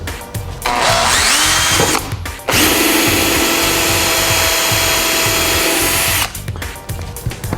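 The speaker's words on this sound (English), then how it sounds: "So I'm going to drill this next one here for the screw mounts." A power drill whines loudly in short bursts while drilling screw-mount holes into a boat for a GPS antenna, then runs in one long sustained drilling stretch before stopping, with faint clattering between.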